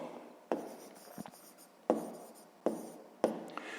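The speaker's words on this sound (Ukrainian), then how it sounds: "записуємо тоді число" Pen or pencil writing a number during a 6th-grade maths exercise, a few distinct scratchy strokes with short pauses between them, close and quiet with no talking.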